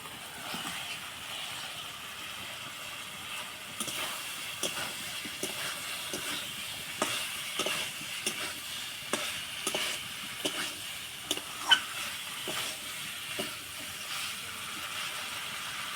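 Fried potatoes tossed into a pan of Bengali-style matar paneer gravy, giving a steady soft sizzle with repeated rhythmic scrapes and clinks of a spoon stirring throughout, moderately close and without voices.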